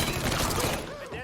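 A short, loud burst of rapid gunfire rattles out during a Mafia III shootout, a dense crackle of shots that fades quickly.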